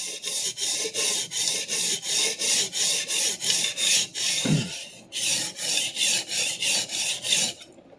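A vintage Clyde Cutlery chef knife is pushed in long, even strokes across a diamond sharpening plate. About twenty regular rasping passes sound close and loud, broken by a brief pause and a soft knock midway.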